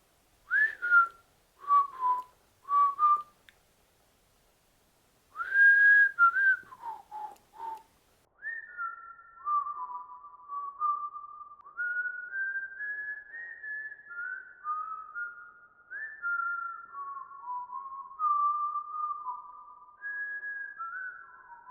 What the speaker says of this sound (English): I just feel like maybe whistling might trigger something.